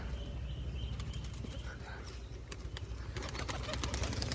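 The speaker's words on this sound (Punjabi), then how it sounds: "ਇਹ ਆਇਆ ਕਬੂਤਰ ਆਪਣਾ ਉੱਡ ਕੇ" Pigeon wings flap in quick irregular bursts near and far over a steady low rumble of background noise, with faint cooing.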